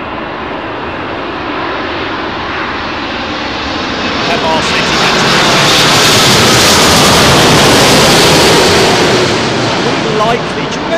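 Jet aircraft arriving to land on runway 27L at London Heathrow in gusty wind, a broad roar swelling from about four seconds and staying loud near the end, buffeted by wind noise throughout.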